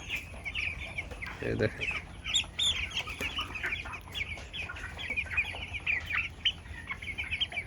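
Broiler chickens weighing around 1.1 kg cluck and chatter steadily in a partly covered poultry shed, several birds overlapping at close range, with a man's brief speech in the middle.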